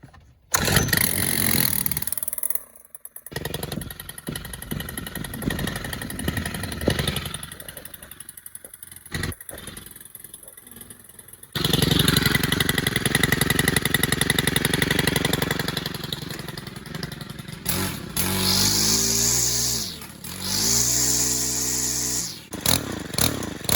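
A primed and choked gas string trimmer is pulled several times before catching, then its small two-stroke engine runs loud and buzzing close by, revving up and down.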